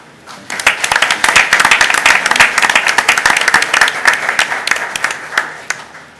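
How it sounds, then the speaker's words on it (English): Sustained applause from a crowd at a West Clermont Schools board of education meeting honoring volunteers, dense clapping rising quickly, holding steady and loud for several seconds, then thinning toward the end. "let's give one more round of applause to all of our volunteers"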